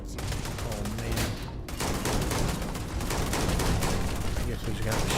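Rapid, sustained gunfire in Starfield, a loud dense fusillade of shots that barely pauses, with a voice talking over it.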